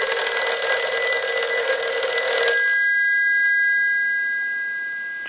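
Western Electric 302 rotary desk telephone under repair rings its bells in a loud metallic trill for a couple of seconds, then stops abruptly, leaving a faint lingering tone and quiet.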